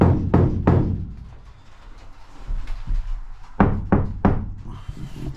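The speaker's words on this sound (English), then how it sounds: "if we go to this side, I'll knock it in the corner as well" Sharp knocks on the corner of a camper van wall come in close, loud bursts: a quick group of three, then a pause, then another tight cluster of three or four hollow raps.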